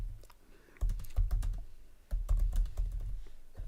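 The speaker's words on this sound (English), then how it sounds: "you're sat there typing away" Someone types on a computer keyboard in quick, irregular bursts of close, crisp key clicks, with a brief pause before each flurry resumes.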